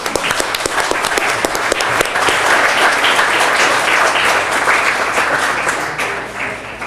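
Audience applause at a Pacifica city council meeting, dense steady clapping from a room full of people, loud and sustained for several seconds before tapering off at the end.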